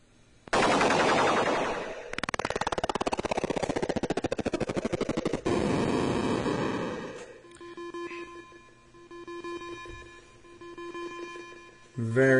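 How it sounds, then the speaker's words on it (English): Retro explosion effects from a Tandy Color Computer game title screen burst out as loud, harsh, crackling noise lasting several seconds, then give way to a simple electronic tune with a final noisy burst at the end. "we had a really cool Atari sounding explosions effect when the game first came up"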